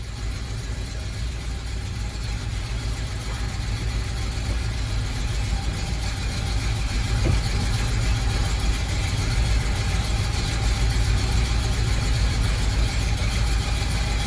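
1981 Oldsmobile Delta 88 engine idling steadily without revving, a constant low rumble throughout, close by and loud.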